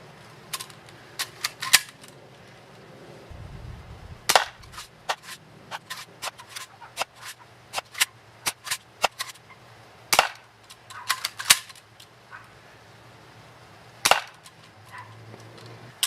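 Daisy Model 25 BB gun firing Hornady smooth polished BBs on a target range, a series of sharp, close cracks at irregular intervals, some in quick pairs, with light handling clicks between shots.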